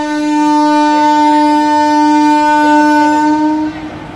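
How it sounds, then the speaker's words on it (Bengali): A train at Lalbagh station in Murshidabad sounds a long, loud, steady horn blast that holds for several seconds and then fades out. "ট্রেনকে এখন বাই বাই বলবো"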